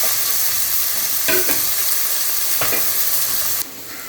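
Onions sautéing in a pan for sambar give a steady close sizzle and frying hiss, with a few stirring scrapes, and the sizzle drops off sharply near the end.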